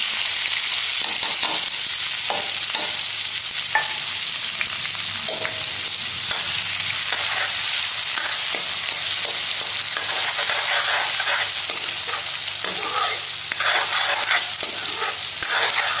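Steady, loud sizzling of a tempering of dried red chillies, onion and garlic frying in hot oil, with occasional stirring clinks and scrapes throughout.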